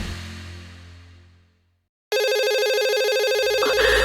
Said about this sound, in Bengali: তোর জিম থেকে ফোন।